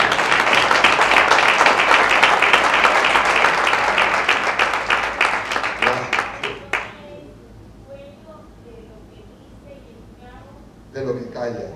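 An audience at a conference bursts into loud, dense applause that fades out over several seconds, followed by quiet and then a voice speaking.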